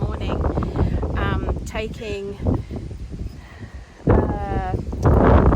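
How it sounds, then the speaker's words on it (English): Strong wind buffets a microphone outdoors beside a homestead garden bed being built, a steady low rumble that rises and gusts louder toward the end, mixed with a person talking. "Sorry about the wind, it's very windy."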